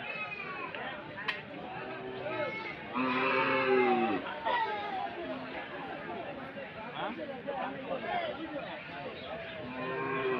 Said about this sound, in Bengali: খুব সুন্দর সুন্দর গরু এখানে আছে।